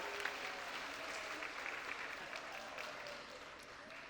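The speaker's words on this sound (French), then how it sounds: "Un petit applaudissement pour eux" An audience at a school talent show in Outremont claps for the students in a soft, even round of applause heard from a distance, sustained for a few seconds without a break.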